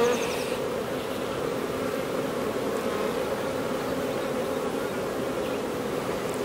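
Honeybees buzz around an open beehive, a dense, continuous, close hum of many wings that stays steady throughout with no talk.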